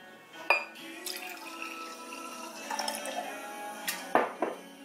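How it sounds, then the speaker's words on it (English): Chianti wine poured from a bottle into a glass in a home kitchen, a soft trickling splash with a few small glassy clinks, close and quiet. "about to pour myself some wine."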